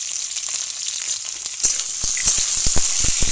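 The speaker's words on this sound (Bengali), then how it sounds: "এর মধ্যে আমি এক এক করে আলু আর এই কাঁচকলাটা দিয়ে দেবো।" Potato and green banana pieces dropped into hot oil with fried green chilli, a bright, steady sizzle with several sharp pops and crackles growing louder toward the end, no talk.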